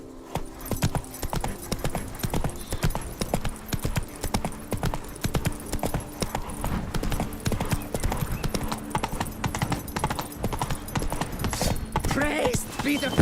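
A horse gallops in The Witcher 3 Blood and Wine, its hooves beating a fast, even clip-clop throughout, loud and close, with a faint neigh and game ambience mixed in.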